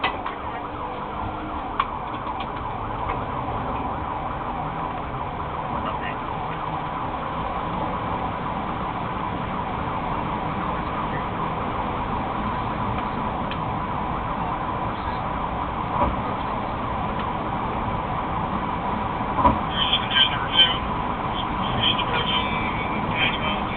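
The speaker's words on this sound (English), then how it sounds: "Officers got back into their vehicles, activated their emergency lights and sirens," Police car sirens wailing during a pursuit, a continuous loud siren tone over road and engine noise, running throughout with a few sharper peaks near the end.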